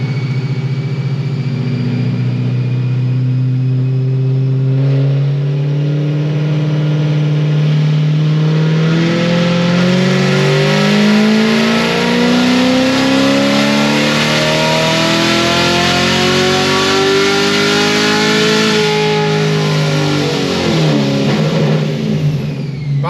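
A Procharger-supercharged car engine with headers revs hard through a long tuning pull, its note climbing loud and close, sweeping up and down for over twenty seconds with a high supercharger whine on top.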